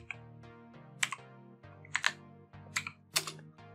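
Typing on a computer keyboard to enter commands gives a quiet cluster of sharp key clicks in four small bursts over a faint steady hum, close to the mic.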